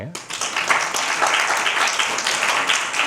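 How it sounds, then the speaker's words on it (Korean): An audience claps in a dense, steady wash of applause, with a voice talking over it. "박수를 왜 안 치나요?"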